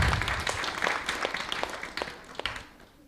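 Temple audience at an ISKCON gathering breaks into applause, scattered claps rising and then thinning out over a few seconds, moderately faint in a reverberant hall.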